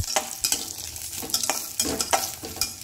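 Grated coconut is dry-roasted in a pan over medium heat and stirred, with quick uneven spatula scrapes and taps over a faint background sizzle, close, and no one talking.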